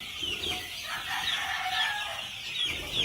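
Gamefowl on a game farm clucking and crowing, several birds calling in overlapping bursts at mid distance, steady and fairly loud with no talking.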